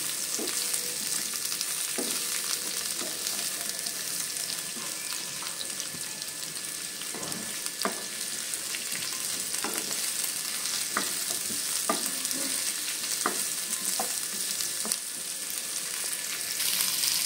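Onion and chopped Kashmiri chilli fry in hot oil with a constant, close sizzle, while regular spatula knocks and scrapes punctuate the frying throughout. No one speaks.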